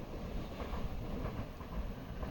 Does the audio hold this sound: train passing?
yes